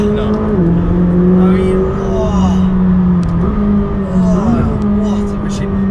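A turbocharged car pulls hard out of a turn in first gear, its engine note climbing loudly and steadily from inside the cabin, with people talking over it.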